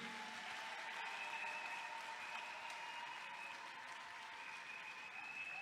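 Steady applause from a church congregation honouring Julie Mambouene, an even, continuous patter of many hands heard at a distance, with faint held musical tones running underneath.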